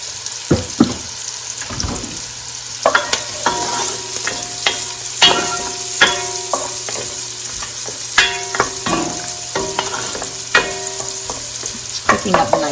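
Loaded potato soup ingredients cooking in a pot, with a steady sizzle, repeated clanks and scrapes of a utensil stirring against the pot, and a low hum underneath, close and loud, without talk.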